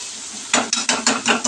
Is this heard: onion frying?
yes